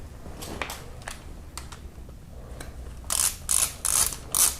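Ratchet wrench tightening bolts on a Kia Optima timing chain tensioner, faint scattered clicks and knocks at first, then four loud bursts of rapid ratchet clicking close up.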